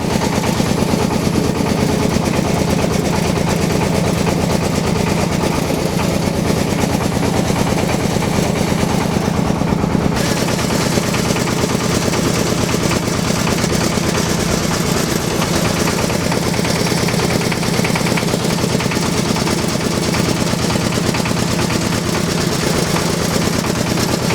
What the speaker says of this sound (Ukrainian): Трішечки показую в дії, як працює гідророзподільник.